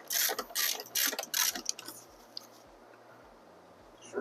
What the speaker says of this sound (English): Now it's time to tighten the axle nut back down.